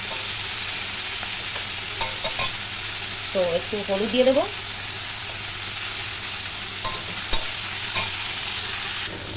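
Okra and tomato fry together in oil in a pan and are stirred, giving a steady close sizzle with occasional scraping stirs while someone talks over it.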